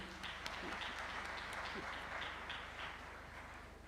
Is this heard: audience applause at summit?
yes